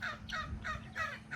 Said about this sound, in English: Those are turkeys.